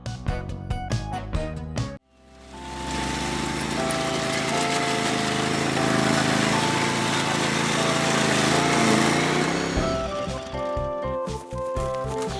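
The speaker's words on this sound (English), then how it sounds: "Yeah, it's a lawnmower!" A lawn mower engine starts abruptly and runs steadily at a loud, close, continuous drone, with clattering sounds just before and after it.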